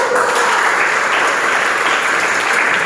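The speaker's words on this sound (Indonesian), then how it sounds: "Luar biasa, tepuk tangan." A classroom of students clapping together, a loud, close, dense burst of applause held steady for a few seconds with no speaking over it.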